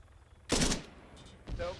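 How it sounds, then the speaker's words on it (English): Burst fire from a Navid machine gun in Arma 3: two short, loud bursts of gunfire about a second apart, the first stronger than the second, with a voice faintly under them. "using the burst fire on the Navid"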